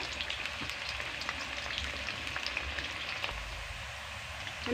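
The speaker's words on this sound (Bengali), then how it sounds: "এগুলোকে ভালো করে ভেজে নেব গ্যাস আস্তে রাখবো" Jackfruit chips fry in hot oil over low heat, a steady crackling sizzle with tiny pops, fairly close and uninterrupted.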